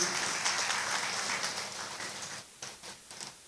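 Audience applause welcoming guests at a Motilal Nagar redevelopment presentation, a broad wash of clapping that thins and tapers off into scattered claps near the end.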